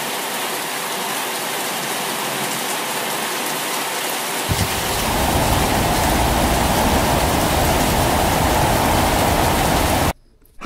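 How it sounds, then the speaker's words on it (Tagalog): Heavy rain pours down during a storm in Makati, a constant dense hiss that swells louder and fuller about halfway through, then cuts off abruptly near the end. "Sobrang lakas ng ulan, bumabagyo."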